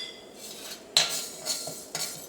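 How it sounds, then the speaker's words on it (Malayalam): Fenugreek seeds dry-roasting in a pan without oil, stirred with a metal utensil: a few sharp clinks and scrapes against the pan over a quiet background. "ഉലുവ വറുത്തെടുക്കുമ്പോൾ എണ്ണ ഒഴിക്കാണ്ട് വറുത്തെടുക്കുക."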